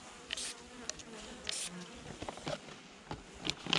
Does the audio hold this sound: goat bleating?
no